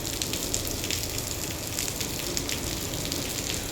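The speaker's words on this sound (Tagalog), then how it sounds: "Grabing patak ng ulan pa," Heavy rain falling as a dense, constant hiss of drops pattering on surfaces, steady and fairly loud throughout with no talking.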